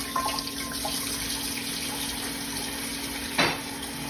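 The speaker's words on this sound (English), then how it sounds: "Everybody wash their hands." Kitchen tap running steadily while hands are washed, a continuous close water hiss with a brief splash near the end.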